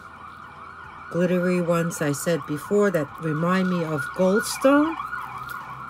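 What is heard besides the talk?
emergency vehicle siren passing outside window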